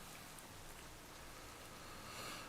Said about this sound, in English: going to Rain Dance here, anticipating the sun.